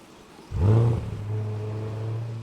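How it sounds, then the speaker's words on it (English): Chevy Corvette E-Ray with its LT2 V8, set to Zora performance mode, barks up in a short rev then settles into a steady, close-up idle drone, with no talking. "E-Ray with the LT2 singing"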